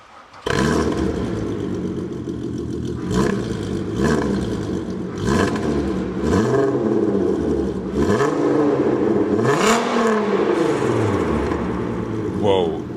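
A VW Golf GTI Roadster race car engine revs repeatedly, its pitch swooping up and down in surges over a steady loud drone, close and continuous throughout.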